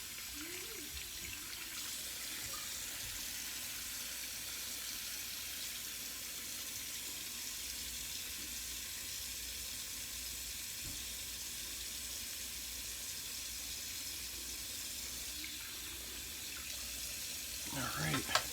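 Steady cold water running from a tap during a wet shave, a continuous hiss holding even for the whole stretch, with a few clinks and a louder splash near the end.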